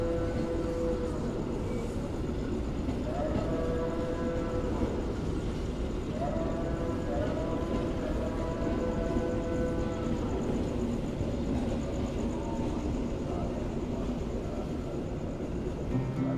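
A long Gumarang passenger train at Surabaya Pasar Turi station gives a low, steady rumble with faint tonal whines rising and falling, heard at moderate distance and fairly quiet throughout.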